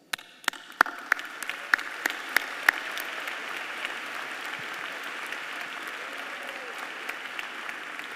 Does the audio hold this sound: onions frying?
no